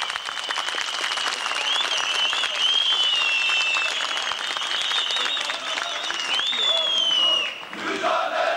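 A crowd claps steadily and densely at a TEKEL workers' protest in Ankara, loud sustained applause with shrill whistles riding over it, tapering briefly near the end before picking up again.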